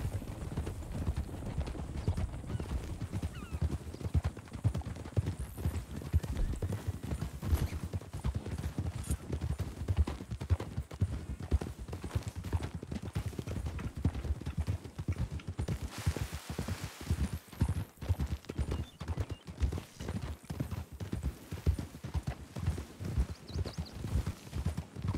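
Horses' hooves clip-clop at a walk in Red Dead Redemption II, a close, steady rhythm of hard knocks that runs through the whole stretch with no talk over it.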